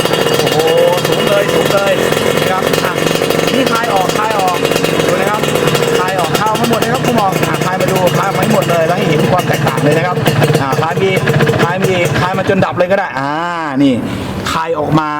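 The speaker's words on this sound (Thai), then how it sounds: "ถ้าขันเข้าไปลูกชักจะเปิด รอบเครื่องจะสูงขึ้น" A carburetor engine runs loud and steady as its throttle screw is turned in, the revs climbing and wavering before faltering near the end, with someone talking over it.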